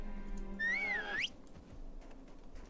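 A single melodic whistle in World of Warcraft calls back trained rams near Kharanos, a short warbling tone rising at the end over quiet game ambience.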